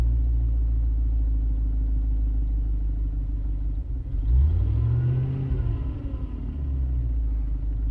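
A 1994 Range Rover engine with an airflow meter fault idles with a low, steady rumble, then swells briefly as it revs and settles back to a constant close idle with no voices.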